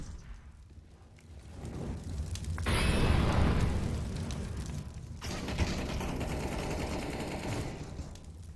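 A flashbang grenade goes off in a shooter game: a loud broadband blast swells and lingers as a hissing roar, then a second burst of harsh noise carries on steadily to the end.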